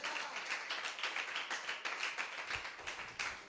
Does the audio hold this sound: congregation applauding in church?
yes